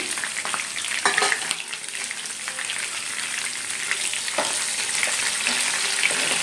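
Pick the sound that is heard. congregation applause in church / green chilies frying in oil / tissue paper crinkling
green chilies frying in oil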